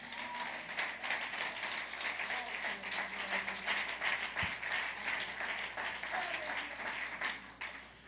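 A church congregation applauds and cheers for the Lord, a dense, steady wash of clapping that fills the whole span at moderate loudness without letting up.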